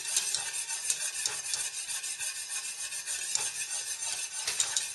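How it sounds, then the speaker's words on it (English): A whisk stirring sharp white American cheese slowly into a sauce for a Kentucky Hot Brown, heard up close as a continuous rapid scraping and swishing with faint bubbling. "And we're going to whisk that in real slow as well."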